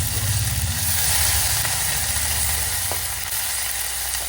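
Mustard seeds, cumin, asafoetida, garam masala and ginger-garlic paste sizzling in hot oil: a steady, close crackling fry with no pauses and no talking.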